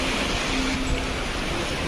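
Heavy surf crashes continuously beside a seaside house in stormy weather, a loud, steady roar of breaking waves with no voices.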